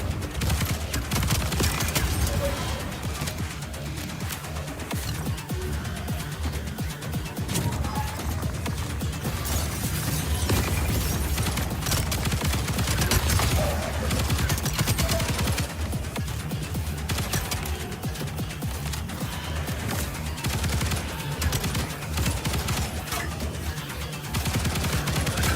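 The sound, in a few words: weapon gunfire in the video game Void/Breaker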